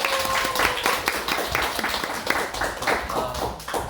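An audience claps in a dense, steady patter at moderate distance, with a voice briefly audible beneath the applause.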